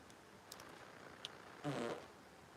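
A fart on a couch: one short, buzzy, moderately loud blast of about a quarter second, with a couple of faint clicks before it and quiet room noise around it.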